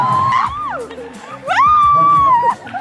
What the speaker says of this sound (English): Nice round of applause for the girls.